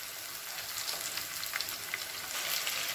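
Quail pieces for a quail curry fry in a pan with ginger and garlic paste, giving a steady close sizzle and soft crackling with faint stirring throughout.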